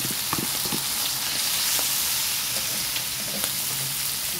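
Leftover white onion, previously cooked, sizzling and frying steadily in a pan as it is sautéed for a pancit canton and sotanghon guisado, with occasional stirring clicks over a constant hiss.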